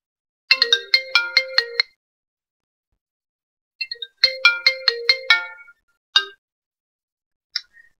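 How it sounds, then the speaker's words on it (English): A bright iPhone 4 ringtone plays two bursts of quick, chiming marimba-like notes, then a couple of isolated single tones, clean and close with silent gaps. "I can play the sounds of the ringtone"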